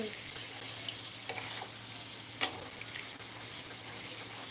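Boiled potatoes fry in oil over a low flame for niramish aloor dam as water is added little by little, giving a steady close sizzle with one sharp hissing burst midway.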